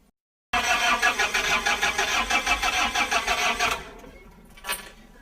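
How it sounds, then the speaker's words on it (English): A marine diesel engine being turned over: a run of rapid, even cranking pulses that catch, then settle into a quieter running rumble, close and loud, followed by a brief clunk. "Then turn the engine over."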